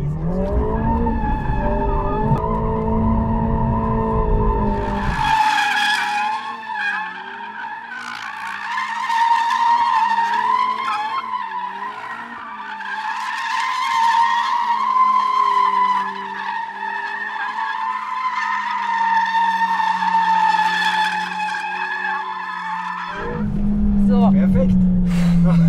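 A Mercedes A45 S AMG in drift mode circles repeatedly with a sustained, loud engine roar and steady tire squeal running almost the whole time, the engine pitch rising and falling with each lap, with brief talk at the start and end.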